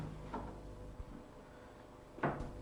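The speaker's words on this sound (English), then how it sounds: "Try the door at intervals until a good fit is achieved." Wooden door being opened and closed during a carpentry fitting, heard as a few faint soft knocks and bumps with quiet stretches between them, ending in a louder thud close by.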